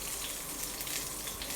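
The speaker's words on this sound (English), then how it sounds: "And I've got my last 2 pieces frying there." Fish pieces frying in hot oil in a pan for a Nepali-style fish curry, giving a steady, close, even sizzle with no speech.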